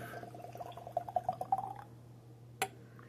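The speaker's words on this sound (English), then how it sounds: "I'll just pour this stuff" Smoke Wagon whiskey poured from a bottle into a glass, a quick run of gurgling glugs and splashes for about a second, close and clear, then a single faint clink near the end.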